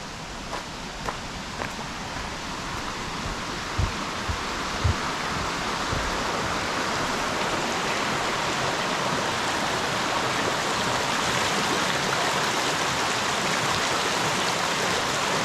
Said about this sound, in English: that river that's pouring into the lake there